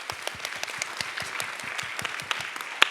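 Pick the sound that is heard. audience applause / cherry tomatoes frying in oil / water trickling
audience applause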